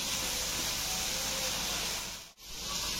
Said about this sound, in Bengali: পেঁয়াজটা আমি ভালো করে কষিয়ে নেব 2 মিনিট